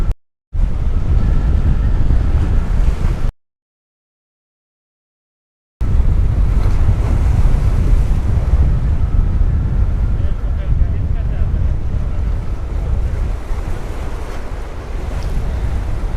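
Ocean waves rolling and breaking on Miami Beach, a loud continuous rushing surf roar mixed with wind buffeting the microphone, cut by a brief silent gap.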